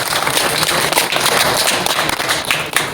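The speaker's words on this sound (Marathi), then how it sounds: "आपणच आपल्यासाठी सगळ्यात पहिल्यांदा टाळ्या वाजवल्या" Villagers at a gram sabha meeting in Garwadi break into loud, sustained applause, a dense clatter of many hands clapping without letup.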